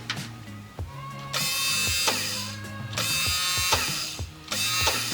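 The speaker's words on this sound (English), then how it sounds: "I'm gonna hear how this motor sounds" A brand-new motor in an Acura Integra revs in loud, uneven bursts, with strong mechanical whine and rattle rising and dropping about four times; no one speaks.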